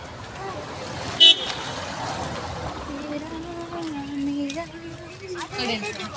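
A vehicle horn toots once sharply, then engine noise rumbles as a vehicle passes close by, while people talk.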